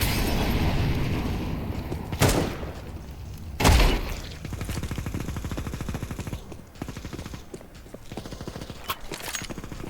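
Counter-Strike 2 gunfire rattles in a loud, dense stream of rapid shots through most of the stretch, with a couple of heavier blasts standing out, close and continuous beneath faint game noise.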